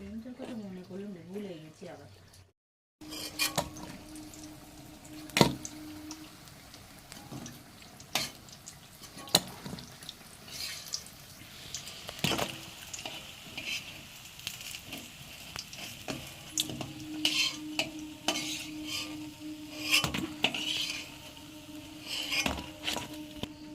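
Pumpkin fritters (kumro bora) frying in a pan, a soft steady sizzle broken by sharp clinks and scrapes of a utensil against the pan, with someone talking over the cooking.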